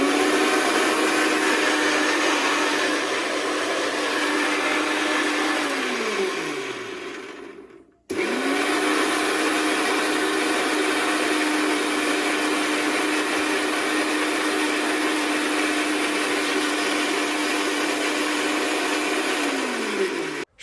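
A mixer grinder runs loud and steady, grinding spice paste for chicken barbecue in a home kitchen. The motor winds down, stops briefly and starts again for a second long continuous run with no talking.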